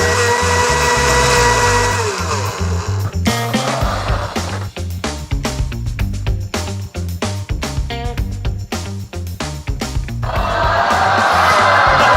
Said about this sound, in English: his blender roars like a lion, blending together an excess protein pod, some peanut butter powder,